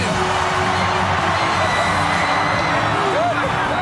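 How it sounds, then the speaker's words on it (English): A packed stadium crowd roars and whoops after a Denver Broncos touchdown against the Steelers, a loud, steady wall of cheering and yelling that holds throughout with no letup. "The crowd has lost their mind."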